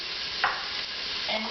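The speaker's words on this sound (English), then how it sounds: "You're going to saute down your onions" Onions sautéing in a soup pot give a steady, close sizzle with a brief scrape of stirring, and no one speaks.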